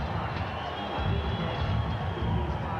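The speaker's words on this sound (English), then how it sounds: "It's not an overwhelming cheer, but it's certainly in Tyson's favor." Boxing arena crowd for a Mike Tyson versus Orlin Norris fight roars in a steady, muffled wash of cheering and murmur, moderately loud and continuous throughout.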